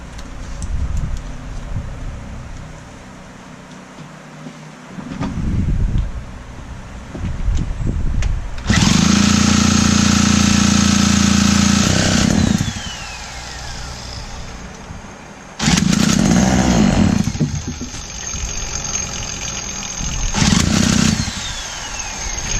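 A McCulloch 110 chainsaw with a rebuilt carburetor sputters through start attempts, then roars loudly into running in two long, sustained bursts with brief drops in between, close to the listener.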